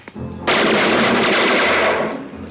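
Gunfire from a handgun erupts abruptly as a loud, sustained blast that roars on for about two seconds before easing off, with no talk over it.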